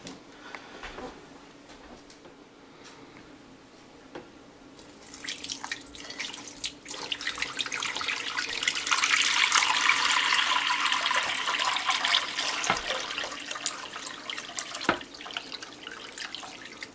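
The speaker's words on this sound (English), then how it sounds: "I'm going to fill this up with water so these cans are covered over with water." Tap water pours into a crock pot holding two cans, a faint trickle swelling into a louder, steady splashing rush that runs for several seconds, with a few small clunks.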